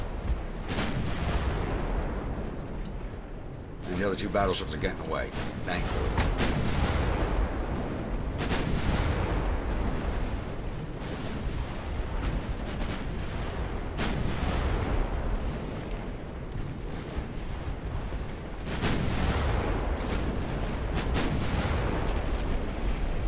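Battleship guns fire in Ultimate Admiral: Dreadnoughts, in a German 1890 campaign: repeated loud booming salvos and gunfire roll on steadily, with someone talking briefly partway through.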